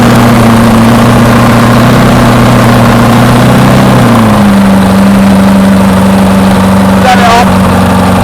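A 6.2 V8 diesel engine, revived after sitting about 20 years, runs loud and close at a steady idle, its tone dropping slightly partway through, with a brief faint sound near the end.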